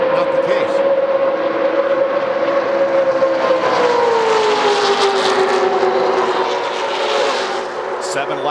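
Stock cars in the 2000 Budweiser Shootout at a NASCAR oval roar past in a drafting pack, a loud, steady engine drone whose pitch slides downward as the field sweeps by, with commentary running over it.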